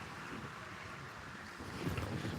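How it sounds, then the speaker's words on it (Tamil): Strong wind blows at Bhavanisagar dam, a broad, steady roar buffeting the microphone and swelling louder toward the end, with no voices heard. "காற்று பயங்கரமாக அடிக்குது."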